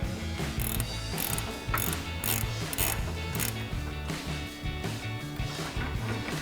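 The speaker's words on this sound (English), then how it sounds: "So again, with our 18mm ratcheting wrench," An 18mm ratcheting wrench turns the nut on a sway bar end link of a 2005-2009 Mustang GT, giving a steady run of close, loud mechanical clicking and pawl ticks that continues throughout with no talk.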